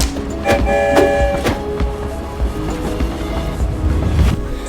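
Train ride from Battersea toward Birmingham: a steady loud rumble of a moving railway carriage with rattling wheels and periodic clunks over the joints, no talk.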